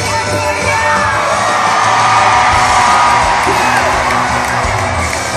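Large concert crowd at an outdoor arena in Verona screaming and cheering during a rap and orchestra show, a loud, dense, sustained roar of many voices with whoops rising above it.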